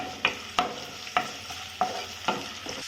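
Onions frying in oil in a pan for chicken fry, stirred in regular scraping strokes about twice a second over a continuous close sizzle, with no talking.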